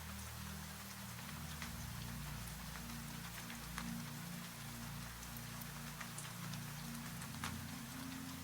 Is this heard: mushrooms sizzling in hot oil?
no